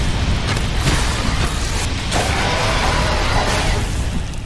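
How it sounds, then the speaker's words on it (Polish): Explosions ring out in the Minecraft RLCraft modpack, a dense, continuous roar of booms and bursts sustained loudly throughout with no clear gaps. "on eksplozje jakieś wali"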